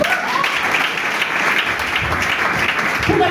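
A church congregation at a deliverance service bursts into dense, continuous applause, loud and close, with voices mixed into the clapping throughout.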